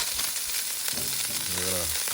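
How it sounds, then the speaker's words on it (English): A steady, bright sizzle of burgers frying on a hot 28-inch Blackstone flat griddle, with a brief voice under the crackle near the end. "We're gonna let those sizzle up, then we're gonna squish them."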